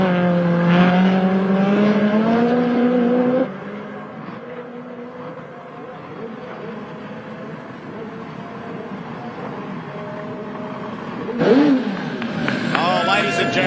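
Honda S2000 race car on a circuit, engine note rising through the gears before dropping into a quieter distant drone, then surging loudly again near the end, with a commentator talking over it throughout.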